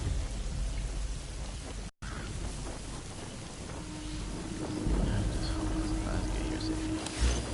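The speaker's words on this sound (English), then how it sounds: "The sound of rainfall should help to mask your footstep." Steady rainfall pours in the Metal Gear Solid V: The Phantom Pain game world, a dense continuous wash of drops with a brief cut and a low rumble later on, under faint background sound.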